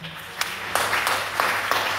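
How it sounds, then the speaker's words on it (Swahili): Church congregation clapping together during a worship service, a steady crowd applause with a few sharper individual claps, while a voice speaks over it. "Mshangilie Bwana kwa makofi."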